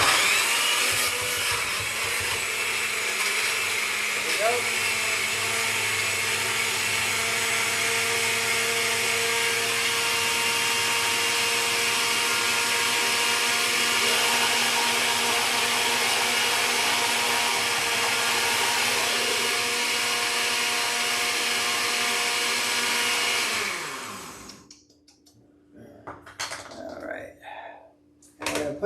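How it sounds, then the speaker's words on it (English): A blender runs loud and steady, blending chopped cucumber for a Mediterranean lemon garlic chicken meal, then winds down and stops near the end before a short spoken remark. "And put it in the blender."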